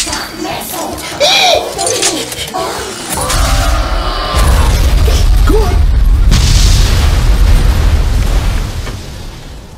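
A nuclear missile explosion in an animated Crash Bandicoot movie, with loud mechanical whooshing and warbling effects that give way to a sustained, deep, roaring blast which rumbles on to the end.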